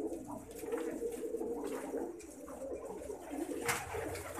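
Sialkoti pigeons coo in a loft, low throaty calls rolling continuously over a busy background of other birds, with a brighter chirp near the end and no voices.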